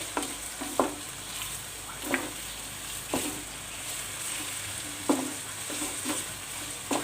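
Chicken pieces stirred in a frying pan for a desi dhaba-style dish, a constant sizzle broken by several distinct scraping and clanking spatula strokes spaced a second or so apart.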